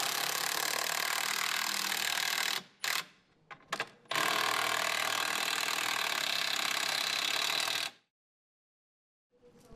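Bolts being driven in to anchor a drill stand bracket to a wall, a loud continuous whirring power-tool run broken by a few short bursts, then stopping into silence.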